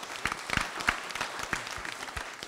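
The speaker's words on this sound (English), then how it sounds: "I would like to ask everyone to give Dr. Yao Nyarko a big round of applause" Audience at a tourism presidential forum applauding a moderator, dense steady clapping with scattered louder claps throughout, close and full, no talk over it.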